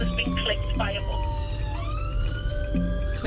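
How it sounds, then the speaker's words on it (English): An ambulance siren wails with a rising and falling tone as the crew heads to a cyclist clipped by a bus on Cheshire roads. It sounds loud over heavy road noise, with voices talking at times. "Paramedic Toby Beattie and his colleague Karen Jackson are the closest ambulance crew to the scene of the accident"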